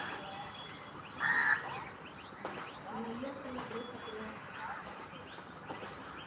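A peacock on a rooftop gives a short, loud, harsh call partway through, set against faint background bird chirps and low murmuring voices.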